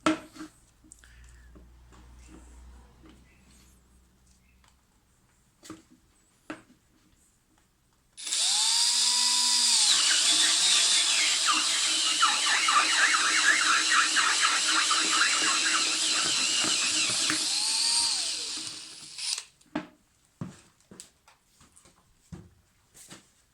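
A Star M No. 5010AT adjustable circle cutter, set to 70mm, bores through thin plastic with a loud, steady, high-pitched whine that carries squealing overtones for about eleven seconds, framed by quieter handling noises before and after.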